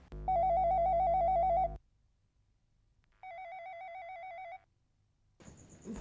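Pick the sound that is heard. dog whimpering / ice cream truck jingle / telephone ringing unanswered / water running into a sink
telephone ringing unanswered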